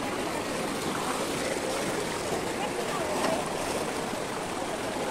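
The Ganga river at the Rishikesh barrage surging and splashing in waves, a loud, continuous roaring wash of water close by with no pauses.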